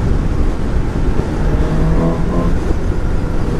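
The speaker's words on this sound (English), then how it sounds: "I don't think it's the exhaust as much as the engine itself" A 2017 Suzuki GSX-S750 motorcycle, its engine and intake giving a steady loud rumble from close by, mixed with heavy wind noise and a brief tonal rise partway through.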